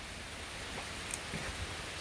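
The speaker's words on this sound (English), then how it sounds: "God, I love the rain." Rain falls as a steady, soft broadband hiss, close by and unbroken, with no voices.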